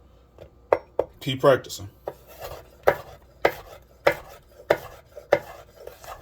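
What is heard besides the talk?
knife rock-chopping on a cutting board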